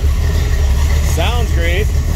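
A 1982 Chevrolet Camaro Z28 engine rumbles steadily at a close, loud idle, a deep low drone running throughout while a voice speaks briefly over it.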